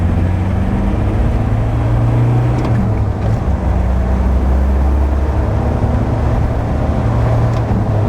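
A 2.2-litre Land Rover Defender with a stage 1 remap accelerates uphill at full throttle in third gear. The engine is a steady, loud, deep drone that holds throughout with no pauses.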